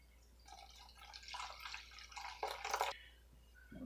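Water pouring into a container of sourdough starter, a soft splashing trickle that builds and then stops, alone in a quiet kitchen with a low hum beneath.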